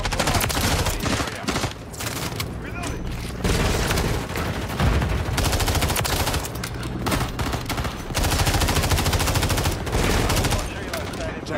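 Rapid automatic gunfire from a Call of Duty MW3 match with an MTZ 556 rifle, dense bursts rattling almost continuously with brief gaps between volleys, loud and up close.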